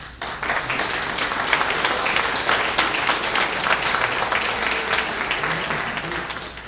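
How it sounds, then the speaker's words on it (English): Applause from NYPD officers and partners at a New Jersey–New York detective crime clinic, a dense, steady wash of clapping that starts quickly and holds at an even level throughout. "please give yourselves a round of applause"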